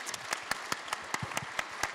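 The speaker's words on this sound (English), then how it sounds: "if you could join me in applauding and thanking our amazing panelists" Scattered audience applause for the panelists at a festival of activism against sexual violence: a modest crowd claps in separate, distinct slaps over a soft bed of continuous clapping, fairly close and unhurried.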